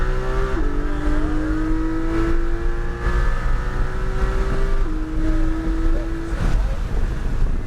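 A car accelerates hard on the Portland International Speedway race track, its engine droning loudly as the pitch climbs through gears with brief shift drops. Road and wind roar sit underneath.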